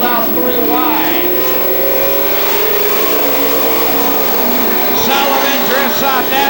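Pro stock race cars roar around the oval at the Star Classic night feature in 1999, a continuous loud pack of revving engines with cars passing close by, under a race announcer's running commentary.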